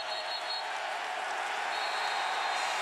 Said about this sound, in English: And now the crowd's alive.